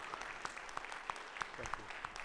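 A small audience at a talk on mental health in cybersecurity applauds with sparse, evenly spaced claps that sound faint and distant and stand apart from one another, with no voices.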